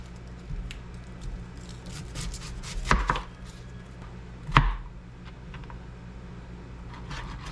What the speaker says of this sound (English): So I'm just gonna shred up some lettuce real quick.